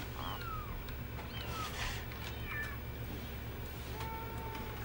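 A cat meows several times in a quiet indoor office, with a few short, faint mews spread across the moment and no talking.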